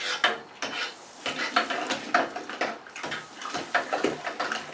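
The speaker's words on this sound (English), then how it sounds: "Get that stirred around." Milk sugar is stirred into a homebrewed toasted marshmallow milk stout. Rhythmic rasping and scraping strokes repeat close by, with light clinks against the brewing vessel.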